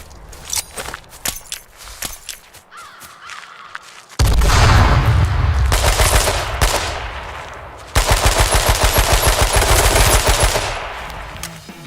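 Gunfire in the online survival game H1Z1: loud automatic bursts and rapid single shots, with footsteps between, then long sustained machine-gun volleys close up, no talk.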